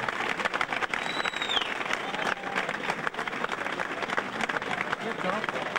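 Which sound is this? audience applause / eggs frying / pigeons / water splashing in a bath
audience applause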